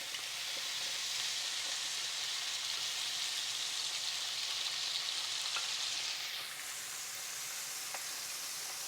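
Potatoes and meat sizzle side by side in a Ninja Foodi air fryer oven, a dense, even hiss and spatter held close and constant, easing slightly near the end.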